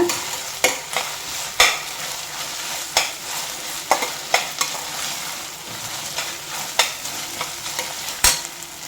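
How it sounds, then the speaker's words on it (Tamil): Ingredients being sautéed in a pan for ghee rice, with repeated sharp scrapes and clacks of a stirring spoon over a steady, close sizzle. "இது அந்த பச்சை வாசனை போகிற வரை நல்லா வதக்கிக்கோங்க"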